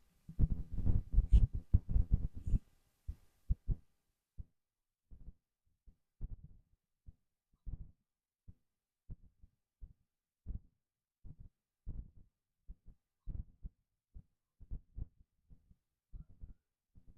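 A heartbeat plays in a steady slow rhythm of soft thumping pulses with quiet gaps between them, opening with a louder, denser burst of throbbing before settling.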